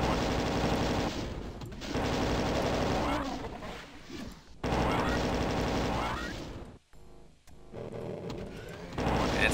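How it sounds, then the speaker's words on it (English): A plasma gun in Doom II fires in long rapid bursts of dense, buzzing shots, broken by short pauses, with monster noises mixed in. "The plasma gun is the best gun"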